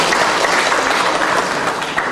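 Audience applause at a directors' inauguration ceremony, dense steady clapping from a large crowd filling the room evenly for about two seconds.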